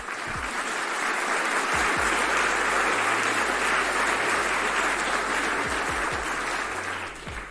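Sustained crowd applause in a courtroom gathering, a dense steady wash of clapping that holds loud and even for several seconds before easing slightly at the end.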